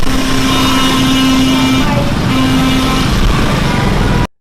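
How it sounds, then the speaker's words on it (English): Dense motorcycle and car traffic fills a Hanoi street, a loud continuous engine roar with buzzing scooters and a sustained horn blast that breaks off briefly midway. "there's nothing like the sound of Hanoi's traffic to get you going"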